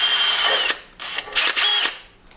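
Power drill boring a hole for a fitting on a triple-turbo LS-swapped Mustang, whining in several close, loud bursts with short pauses between them, no talk.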